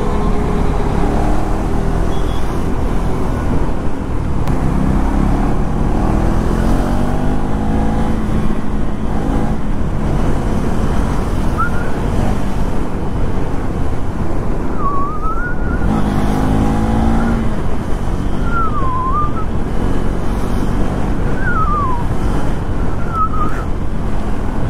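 A KTM Duke 390 Gen 3 motorcycle rides through narrow lanes, its engine a steady close drone under heavy wind buffeting, with brief rising tonal whines as the revs change.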